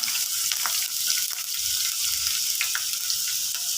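Mustard seeds and chopped ginger fry in hot oil with a bright, steady hiss and crackle, broken by small pops, close and fairly loud.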